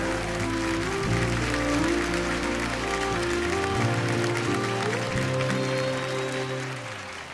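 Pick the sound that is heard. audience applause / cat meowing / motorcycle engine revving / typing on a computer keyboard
audience applause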